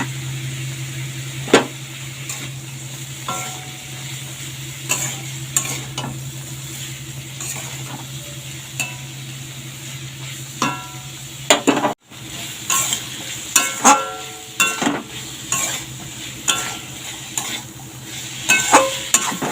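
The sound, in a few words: stirring and frying ghatkol stems in a pan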